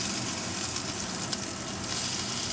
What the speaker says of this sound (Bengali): আগে আমি দিচ্ছি পেঁয়াজের পেস্টটা।